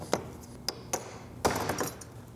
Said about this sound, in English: we're gonna hit it with a hammer